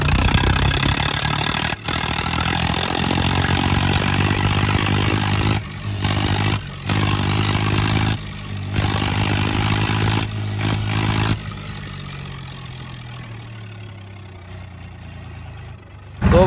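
New Holland 3630 and Swaraj 960 tractor engines running, a loud steady diesel rumble with clattering tone, briefly cut by short gaps, then fading down to a lower idle near the end.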